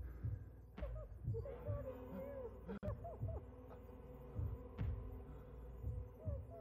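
Faint, muffled heartbeat thumps from the video game Vampyr, heard by a vampire, pulse slowly at low level beneath a low hum and other soft game sounds.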